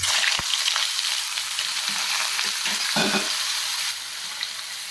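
Butter hisses and crackles as it hits hot white oil in a pan, a steady loud frying sizzle with a few clicks and stirring noises. No one speaks.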